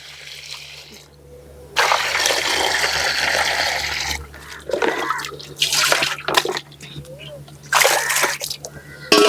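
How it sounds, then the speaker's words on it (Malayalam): Bursts of water poured over crabs come in several uneven splashing pours, loud and close, with brief quieter gaps between them and some voice in the background. "ഇത് കുറച്ച് വെള്ളം ഒഴിക്കാം നമുക്ക്"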